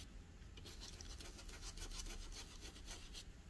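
A 3/8 dome stippler brush dry brushing sand gray paint onto a figure, giving a steady soft scratchy rubbing with quick repeated strokes, close and fairly quiet, no voices.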